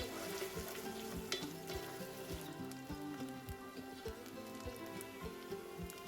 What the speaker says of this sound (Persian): پیازها رو بهش اضافه میکنیم و چند دقیقه تفت میدیم تا سبک و طلایی شن